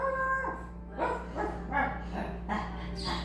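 A dog whimpers and lets out a series of short, whiny yips and barks about every half second, fairly faint against a steady low hum indoors.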